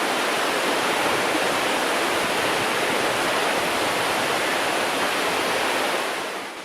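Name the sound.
South Sauk River flowing under old rail bridge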